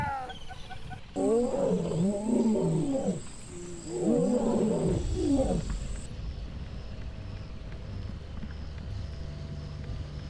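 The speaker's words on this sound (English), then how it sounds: "A roar on the savanna is an energy-saving tool." A lion on the African savanna roars twice, deep and throaty, each roar a burst of grunting pulses, followed by quieter low grunts that fade into a steady outdoor background.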